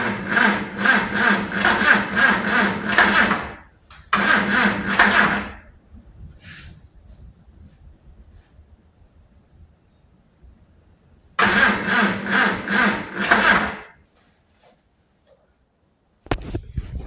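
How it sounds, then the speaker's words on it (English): A classic Mini with a 998 engine cranks in repeated bursts, its starter churning rhythmically for several seconds at a time with quiet gaps between attempts, as the engine fires occasionally but fails to catch, loud and close. "As you can see, it still hasn't started, but she's trying to go. It's firing"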